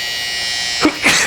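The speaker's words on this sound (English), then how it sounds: "This trimmer is super good. It grabs the hair super nice." Babyliss electric hair trimmer buzzing steadily close up while cutting hair during a fade, with two short bursts of extra noise near the end.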